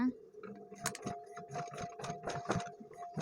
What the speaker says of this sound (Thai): อันนี้เราก็จะเย็บวน เย็บตามต้นฉบับ